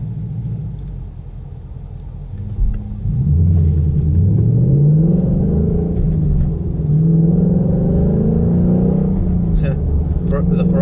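Ferrari engine revving on a road, a deep rumble climbing and falling in pitch as it accelerates nearby, heard from inside a car on a Newport Beach freeway, with a person talking over it.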